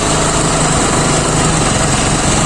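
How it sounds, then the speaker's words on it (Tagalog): A motorcycle engine, back in running order after a week of sitting unused, idles steadily and loudly close by, a constant buzzing drone with no pauses and no voices. "napapandar na yung motor natin"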